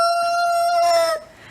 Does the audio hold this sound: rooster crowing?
yes